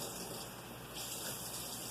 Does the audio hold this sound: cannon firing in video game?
no